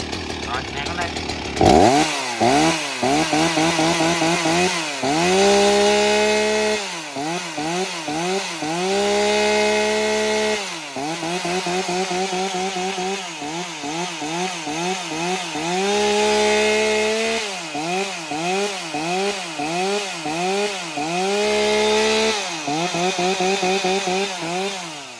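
A Husqvarna 266 chainsaw starts, then its engine is revved repeatedly: loud, close, rising and falling bursts over a steady idle for over twenty seconds.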